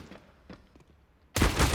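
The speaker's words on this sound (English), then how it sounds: "What a shot from Forsey." Gunfire in Counter-Strike at the PGL Major Antwerp 2022: faint scattered shots, then a sudden loud burst of rapid fire at the end.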